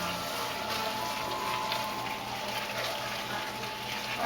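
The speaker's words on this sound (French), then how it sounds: "On va verser le vin et on va brasser tout en prenant bien soin d'aller déloger les sucres" Wine poured into a pot of caramelized onions for French onion soup and stirred to scrape up the browned bits, giving a steady close liquid splashing and swirling wash with no pauses and no voices.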